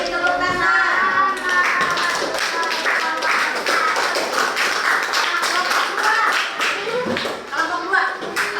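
A classroom audience claps for a group presentation, brisk mixed applause with scattered taps and children's voices talking over it for several seconds.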